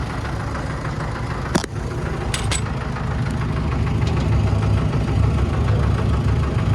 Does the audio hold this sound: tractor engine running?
yes